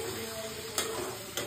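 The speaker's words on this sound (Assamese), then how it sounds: "কি বনাইছে একদম তেল তেল থকা আলু ভাজি" Oily potato bhaji frying in a pan, cooked for a train journey, a brief steady sizzle with two quick utensil taps from stirring, close and without voices.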